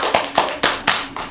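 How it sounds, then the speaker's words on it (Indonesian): A few people clap hands on a podcast set, about five sharp claps at an uneven pace, close and fairly loud with no talking. "Tepuk tangan dong, Mbak."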